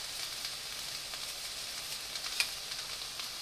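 Mushrooms, red peppers and yellow onions saute in a pan with a soft, continuous sizzle and a single brief crackle partway through, close but fairly quiet, with no talking.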